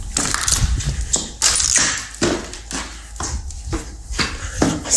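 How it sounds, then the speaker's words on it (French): A series of sharp, evenly spaced impacts suggests footsteps in a horror clip, loud and close, repeating about once per second over a murky background. "les bruits de pas comme ça"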